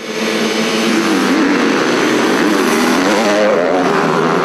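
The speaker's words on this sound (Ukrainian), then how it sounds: "На швидкісній трасі з перешкодами довжиною 1700 метрів змагалися кілька десятків мотоциклістів із різних куточків краю." Motocross motorcycles of several engine classes race on a 1,700-metre obstacle track, a loud, continuous buzzing engine whine wavering up and down in pitch as the bikes ride close by.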